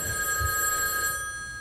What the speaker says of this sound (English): Bird, the phone is ringing!